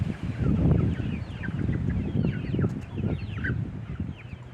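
Chickens cluck and murmur continuously at close range in a yard, a busy flock chattering with short overlapping calls and no talking.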